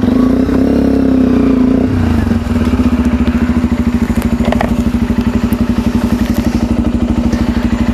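A Sinnis Terrain motorcycle engine with an aftermarket exhaust runs close and loud, shifting after a couple of seconds into a fast, steady pulsing idle.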